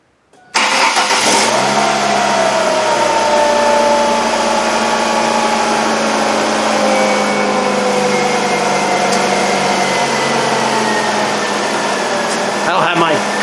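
A 2001 Ford Focus 2.0 SPI SOHC, just reassembled after a timing belt and water pump job, cranks and catches within a second, then settles into a steady, loud idle that runs on evenly close to the engine bay.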